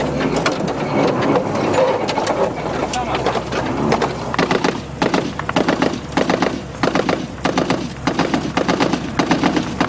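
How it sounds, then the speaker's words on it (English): Sustained heavy gunfire during combat in Afghanistan: rapid, sharp bursts and repeated cracks of shots, loud and close at times, continuing steadily under a constant background rumble. "We just drove along that ridge and came under sustained heavy fire"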